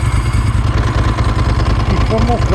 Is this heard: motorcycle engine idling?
yes